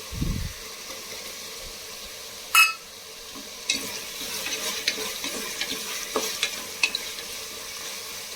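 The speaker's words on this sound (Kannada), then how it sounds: "ಒಂದು ಐದು ನಿಮಿಷ ಈ ಥರ ಫ್ರೈ ಮಾಡ್ಕೊಳ್ಳಿ" Vegetables with double beans frying for tomato bath, a soft steady sizzle with occasional clinks and scrapes of the spoon against the pan, moderately close and fairly quiet, with no voices.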